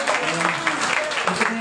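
Audience clapping during a devotional Sri Caitanya Bhagwat recitation at a bhakti centre in Jaipur, a steady wash of applause with voices talking over it.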